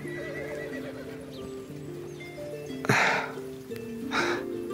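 A horse neighs and whinnies over a steady background tone, with two louder snorting bursts near the end and faint hoof clops.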